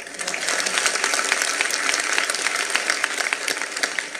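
An audience at a devotional kirtan gathering applauds, a dense, sustained burst of many hands clapping at fairly close range that continues evenly throughout.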